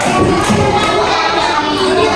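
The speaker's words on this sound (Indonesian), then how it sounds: "Tepuk tangan untuk kelompok 3." Dense, continuous clapping from a group of children fills a primary school classroom, loud and close, with a few shouts mixed in.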